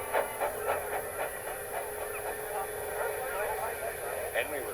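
A train runs along the track, a steady rattling clickety-clack of wheels with hiss, faint and distant under a narrator's voice.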